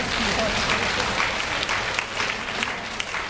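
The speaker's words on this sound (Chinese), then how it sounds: "好，我们给男生鼓掌，所有男生都起立" A church congregation applauds the men standing up during a sermon, a dense, steady wash of clapping from many hands filling the room throughout.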